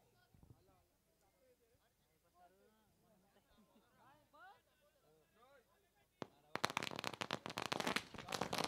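Fireworks burst in a rapid, loud crackling string at a cricket match, starting abruptly near the end after a stretch of excited commentary and crowd noise.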